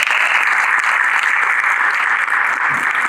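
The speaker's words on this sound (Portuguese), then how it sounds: "Peço palmas para Milena Ferreira e Gino Nunes." A crowd at a regional education, science and technology forum applauds steadily and loudly, a sustained wash of clapping with no break.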